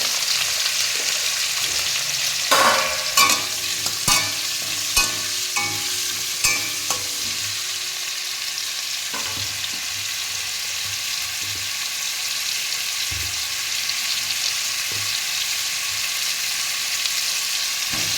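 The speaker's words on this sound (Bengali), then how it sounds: "আলুটা ভাজছি সবজিগুলোও ভাজবো" Potatoes and vegetables frying in hot oil, with salt added, while cooking a winter vegetable meal; a steady sizzle continues throughout, broken early on by several sharp clatters of stirring and utensil knocks, with no talking.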